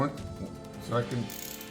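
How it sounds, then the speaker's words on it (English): A hand ratchet clicks faintly while tightening a spark plug on a Toyota Highlander 2GR-FE V6, with a few short ratcheting strokes heard up close. "then I put my ratchet on there, set it to the right setting."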